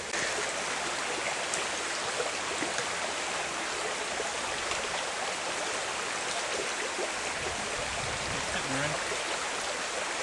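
Steady rushing stream water, a continuous broadband flow close by, with a faint gurgle of a bottle filling near the end.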